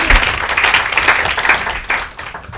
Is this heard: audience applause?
yes